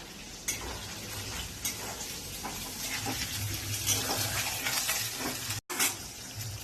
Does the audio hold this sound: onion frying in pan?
yes